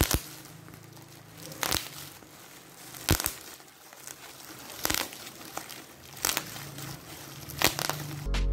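Bubble wrap from a gaming keyboard's packaging is popped by hand in sharp, loud snaps spaced about every second or two. Soft crinkling of the plastic fills the gaps.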